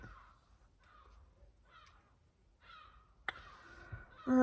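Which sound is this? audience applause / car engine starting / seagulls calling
seagulls calling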